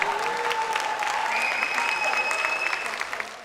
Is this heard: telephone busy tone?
no